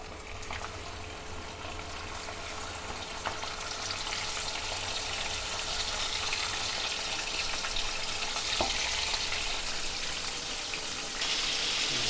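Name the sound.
prawns frying in hot mustard oil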